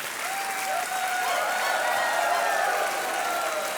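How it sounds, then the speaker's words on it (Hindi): A studio audience on the quiz show Kaun Banega Crorepati applauds in a dense, steady wash. It runs loud and unbroken, with a faint sustained tone threaded through it. "तालियां बजती रहनी चाहिए क्योंकि इन्होंने अपना मन चाहा पड़ाव पार कर लिया है"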